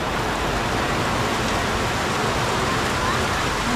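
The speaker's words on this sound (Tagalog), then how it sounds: "naabutan kami ng ulan" Heavy rain pours down steadily outdoors, a dense, even hiss filling the scene throughout, loud and close with no pauses.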